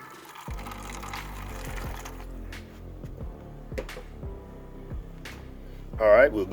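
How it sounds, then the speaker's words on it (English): Water is poured into a Big Easy oil-less fryer, producing a faint, repeated glugging with falling pitch over several seconds, joined by a brief louder splash near the end. "Let's go ahead and pour a little water in there."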